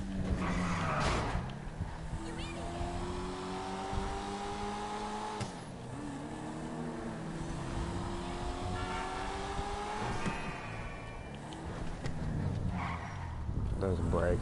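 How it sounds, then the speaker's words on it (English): A stock supercharged Chevy's supercharger whines as the car drives and accelerates, rising whistling tones climbing and dropping with engine speed, loud and close over broad engine and road rumble, with some talking over it. "You can hear the supercharger, even though it's stock, it's still so loud."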